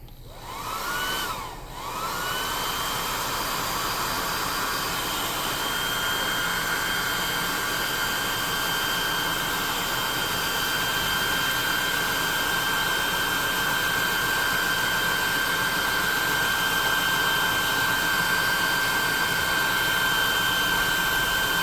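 A hair dryer blows steadily and loudly on a freshly painted tabletop miniature, a continuous airy roar with a brief dip near the start, then constant to the end with no talking.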